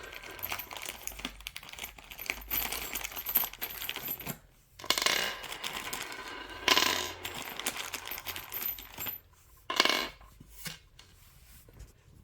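Small metal screws rattle and clink while being handled and fitted into the panel of a five-drawer storage cabinet during assembly, in scattered bursts of jingling with brief quiet gaps and no talk.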